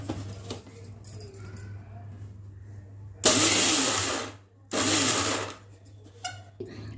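A kitchen mixer grinder coarsely grinds pumpkin seeds in two loud whirring bursts of about a second and a half each, separated by a short pause, with quieter room noise and a low hum before and after.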